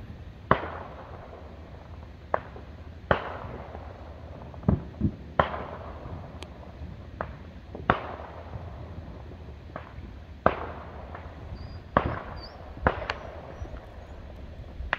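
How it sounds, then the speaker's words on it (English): Fourth of July bottle rockets going off in the distance, a scattered series of about a dozen sharp cracks and pops at irregular intervals over a steady low background hum, fairly faint overall. "You can also hear like bottle rockets going off."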